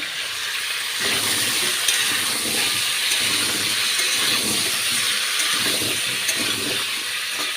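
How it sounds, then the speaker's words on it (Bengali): Potatoes for aloo dum frying in hot oil, a steady loud hiss and sizzle held close throughout with no talk. "এদিকে আমি আলুর দমের আলু ভাজছি"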